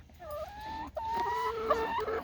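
A chicken clucking close by in a backyard flock, a short series of tonal, rising clucks over a low background hum, with no talking.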